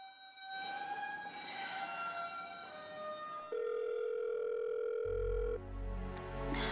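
A telephone goes unanswered, a sustained electronic tone that shifts pitch in steps and keeps sounding without pause, fairly quiet, with no voices.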